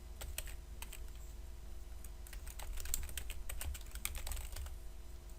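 Steady clicking of typing on a computer keyboard, fast and irregular keystrokes at close range over a low background hum, with no talking.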